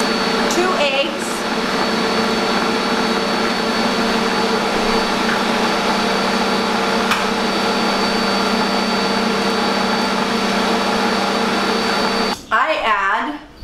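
An electric mixer beats cookie dough with eggs in a home kitchen, giving a loud, continuous steady whine close up that runs unbroken for about twelve seconds before cutting off abruptly.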